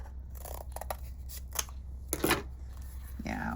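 Scissors snip through a piece of craft material for a coffee-themed pin, several sharp close cuts in quick succession with a longer slicing stroke, followed by light handling rustle.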